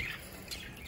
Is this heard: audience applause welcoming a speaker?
no